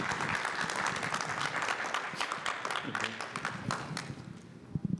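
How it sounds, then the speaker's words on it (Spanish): An audience at a technical presentation gives a burst of steady, dense applause that fills the room and then thins out toward the end, with some voices mixed in. "Un aplauso, por favor."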